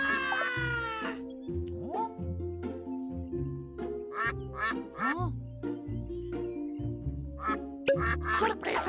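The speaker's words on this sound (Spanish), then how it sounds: "¡Pato, pato! ¡Pato!" Cartoon duck quacks in a children's animal-sounds vocabulary song, a string of short nasal quacks set over a bouncy, steady musical backing.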